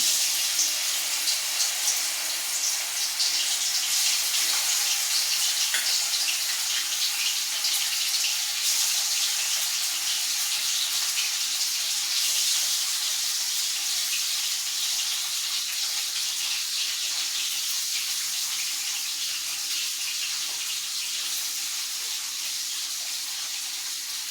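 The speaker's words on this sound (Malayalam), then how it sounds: "നല്ലെണ്ണ നല്ല തിളച്ചിട്ടുണ്ട് ഇതിൽ കുറേശ്ശെ മീൻ ഇട്ട് കൊടുക്കാം" Fish pieces dropped into hot sesame oil for a fish pickle, frying with a continuous loud, hissing sizzle that holds steady throughout and eases only slightly toward the end.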